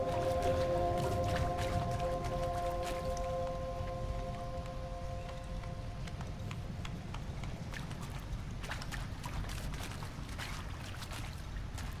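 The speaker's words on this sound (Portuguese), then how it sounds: "Barulho da água, né?" Steady watery wash and trickle from a character walking through water in the video game Horizon Zero Dawn, a continuous even stream with scattered small splashes and a faint tonal hum fading early on.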